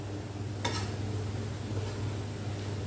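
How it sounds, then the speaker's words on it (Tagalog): Butter shrimp with garlic stirred in a pan, a short scrape of the utensil against the pan over a steady sizzle of frying. "Hahaluin na."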